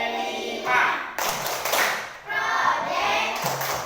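Schoolchildren in an Indonesian classroom perform a rhythmic Tepuk P5 clap chant, sharp group claps and thumps in patterned bursts with brief pauses, mixed with children's voices.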